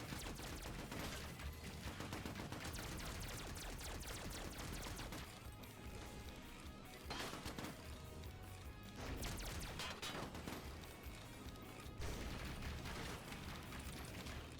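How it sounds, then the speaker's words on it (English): In a zombie shooter's defence mode, gunfire rattles in dense bursts alongside booming explosions and mechanical clatter, a continuous loud barrage with brief lulls. "there's explosions happening around everywhere. There's bullet fire going off on crazy."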